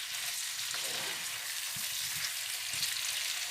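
Lamb for a navarin d'agneau sizzles loudly after going into a hot pan, a steady close hiss with occasional soft spatter and scrape, no talk.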